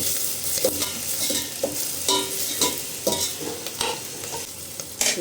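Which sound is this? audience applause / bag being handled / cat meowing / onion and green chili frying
onion and green chili frying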